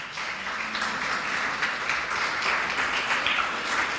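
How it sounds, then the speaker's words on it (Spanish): A church congregation applauds for the Lord, a continuous, moderately loud patter of many hands clapping together without any talking over it. "¿Cuántos le dan un aplauso al Señor?"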